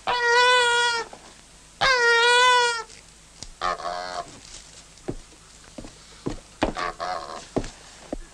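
A goose honks repeatedly, two long nasal honks followed by a run of shorter, choppy honks and clicks, close and fairly loud with no talking.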